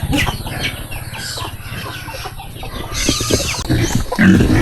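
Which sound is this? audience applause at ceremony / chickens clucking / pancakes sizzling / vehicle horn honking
chickens clucking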